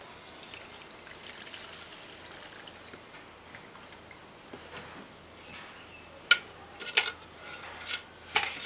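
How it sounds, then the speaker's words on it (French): Juice is poured into a bowl and the vessel rinsed in a kitchen, heard as a faint, steady trickle with a few sharp clinks of dishes toward the end. "je vais enlever le jus pour mettre au bol et rincer"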